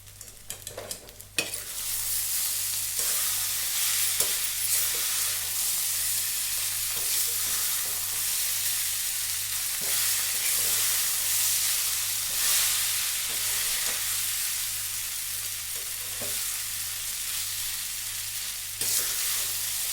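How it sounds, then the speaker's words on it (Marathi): Poha being stirred and fried in oil in a pan with potatoes, onion, curry leaves, cumin and mustard seeds: a steady loud sizzle runs throughout, with scraping stir strokes repeating every second or two and no talking. "पोहे छान फिरून घेऊ आपण"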